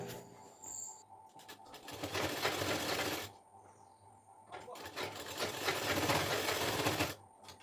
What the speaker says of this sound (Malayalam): ജസ്റ്റ് ഇതൊന്ന് സ്റ്റിച്ച് ചെയ്ത് അടിച്ചെടുക്കാം